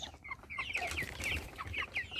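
Several hens cluck in short, overlapping bursts close by in a poultry flock, steady busy chatter throughout with no talking.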